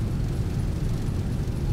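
Airliner thrust reversers roar during a Ryanair landing rollout in the X-Plane 11 flight simulator, a steady loud low rumbling roar with no pauses.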